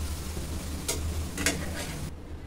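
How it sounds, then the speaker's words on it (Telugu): Ivy gourd mixture cooks softly in a pan, giving a faint, low sizzle broken by a few brief scraping stirs of a utensil; no voices. "ఇలా మధ్య మధ్యలో కలుపుతూ ఈ విధంగా మగ్గించుకొని స్టవ్ ఆఫ్ చేసి చల్లారించుకోవాలి"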